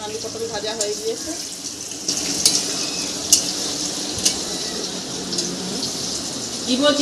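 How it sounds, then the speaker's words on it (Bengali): Potatoes and pointed gourd frying in a pan, a steady sizzle and scraping stir running throughout with a few sharp clinks of utensil on the pan, at moderate volume. "আলু পটল ভাজা হয়ে গিয়েছে।"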